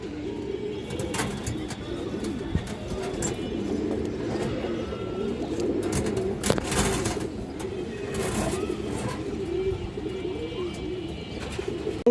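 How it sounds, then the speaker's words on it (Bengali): A green-necked male pigeon coos in a low, continuous, rolling burble nearby, steady throughout, with faint background noise and no talking. "খুবই হারামি একটা সবুজ গলা নর কবুতর"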